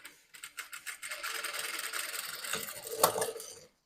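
A sewing machine stitches a folded fold on a blouse in a short, close run of rapid mechanical clatter. A few separate stitch bursts come first, then the motor runs steadily and stops, with no talking.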